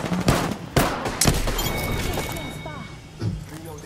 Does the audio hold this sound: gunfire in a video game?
yes